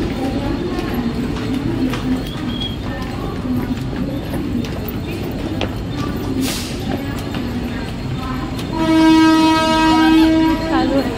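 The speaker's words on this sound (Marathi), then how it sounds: "आता ट्रेन लागले, ट्रेनमध्ये हळू उतरा." A train pulls into Thane station with a steady rumble and rattle under crowd murmur, and near the end a loud, sustained horn blares.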